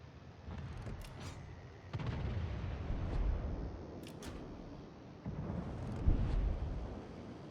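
Warship guns on the destroyer Tashkent fire in a naval combat game, with several deep, booming salvos rolling out at irregular intervals over a constant low rumble.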